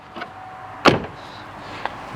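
A rebuilt truck door is handled nearby: a soft click, then a single firm thunk as it shuts, followed by a lighter latch tap, in an otherwise quiet space.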